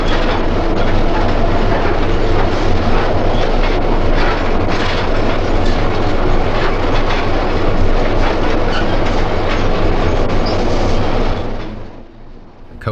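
Aboard a 1929 South Shore interurban coach, a continuous loud rolling roar with rhythmic clickety-clack carries on for several seconds, close and unbroken, then drops off abruptly near the end. Nobody speaks.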